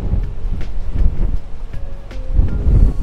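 Very strong wind gusts buffet the microphone on a rocky Crimean coastline at Simeiz, a loud continuous low rumble with scattered clicks and surges, no voices.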